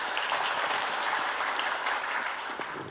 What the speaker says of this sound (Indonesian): Berikan tepuk tangannya buat Tuhan Yesus.